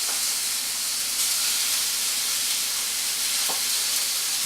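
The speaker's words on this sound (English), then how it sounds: "Literally just sear it until it's brown all over." Cubed casserole steak searing in a hot pan, a bright continuous hiss and sizzle with a faint clink partway through.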